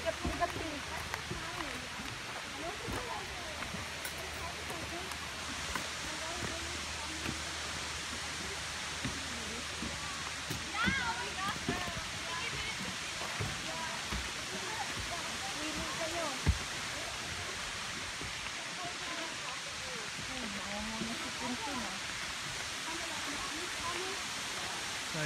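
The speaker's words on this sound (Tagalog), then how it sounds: "Ayan, rinig na natin yung falls." Cascade Falls waterfall in British Columbia, Canada, gives a steady, broad rushing roar that holds for the whole stretch, with faint voices now and then beneath the constant water noise.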